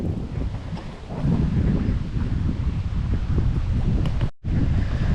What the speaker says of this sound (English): There's quite a bit of wind out here.